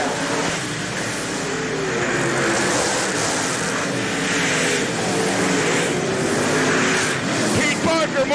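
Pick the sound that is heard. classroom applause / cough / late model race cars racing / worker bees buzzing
late model race cars racing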